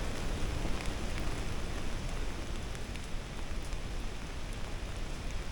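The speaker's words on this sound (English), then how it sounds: "Oh, and the rain's coming back." Steady rain pours down outdoors with a dense, constant hiss of drops hitting surfaces, loud and unbroken throughout with no voices.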